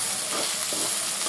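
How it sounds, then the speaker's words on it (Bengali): Dried fish fries in a cooked-down spice paste in a pan, a steady loud sizzle with light stirring, close and continuous with no voices. "শুটকিটা একটু ভাজা ভাজা করে নেব"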